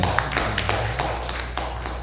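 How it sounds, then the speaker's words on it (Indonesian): Scattered clapping from a small audience at a podcast recording, a few sharp, uneven claps close by over a low steady hum, fairly quiet and brief. "Tepuk tangan untuk para supporting."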